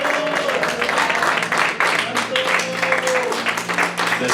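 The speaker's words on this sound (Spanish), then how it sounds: "give the Lord a hand clap for that word." Church congregation applauding during a bilingual sermon, a continuous crowd clapping under voices and a sustained tonal hum, moderately loud throughout.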